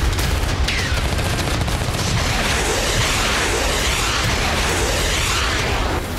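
Dense, continuous gunfire from Russian combat robots fills the whole stretch as loud, sustained, crackling bursts with no pause or voices.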